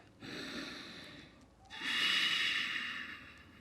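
Two slow, deep breaths during a vinyasa yoga flow, each a long airy inhale or exhale heard up close and alone, the second louder and fuller than the first.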